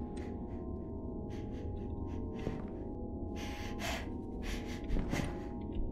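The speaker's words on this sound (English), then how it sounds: "Why are you panting?" Heavy panting from a character in the horror video game Mannequin House, a steady run of breathy gasps and snorts over a constant low background drone, fairly close and moderately loud.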